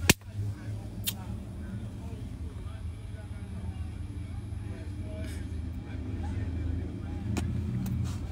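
A car rolls by along a street, its engine rumble low and steady, rising slightly as it passes at moderate distance, while people talk nearby.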